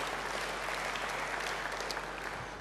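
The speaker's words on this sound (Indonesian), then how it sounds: "Beri tepuk tangan yang baik bagi dia." Church congregation giving a round of applause, a dense, steady wash of many hands clapping, heard from a distance and fairly soft, tapering slightly at the end.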